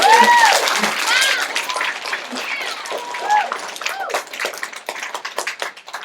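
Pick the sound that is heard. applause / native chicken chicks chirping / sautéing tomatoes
applause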